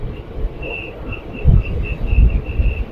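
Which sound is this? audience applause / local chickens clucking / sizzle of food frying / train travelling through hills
train travelling through hills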